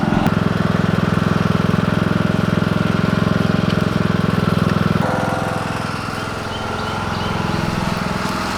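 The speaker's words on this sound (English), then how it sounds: "right now we're just going around with the lawn tractor, clipping, pruning" A lawn tractor engine runs steadily on a homestead, a close, loud chugging drone that drops in pitch and level partway through, then keeps running.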